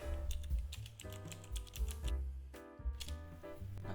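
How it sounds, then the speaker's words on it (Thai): Typing a software name into a web search bar on a computer keyboard, heard as a quick, close run of light key clicks in an uneven rhythm with brief pauses and no speech. "เดี๋ยวพิมพ์ไปว่า Adobe Creative Cloud"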